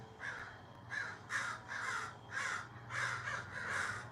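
Several crows caw in a rapid run of about eight harsh calls, fairly close and clear over a low constant hum, with no voices.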